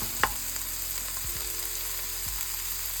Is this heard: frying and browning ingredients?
yes